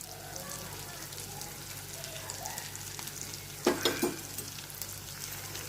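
Potatoes are stirred in a pan with garam masala and chili powder, a steady close sizzle with a spatula scraping and clinking a few times near the end, and a voice faintly under the frying.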